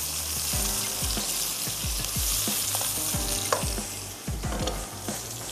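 Tandoori chicken masala frying in a pan, stirred with a spoon in a steady rhythm of scraping strokes over a constant loud sizzle, close and alone without talk.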